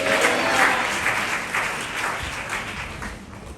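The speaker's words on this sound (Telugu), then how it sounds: "చప్పట్ల కొట్టి దేవుని మహిమ" A church congregation at a Sunday service claps together in loud, dense, sustained applause that fades a little toward the end.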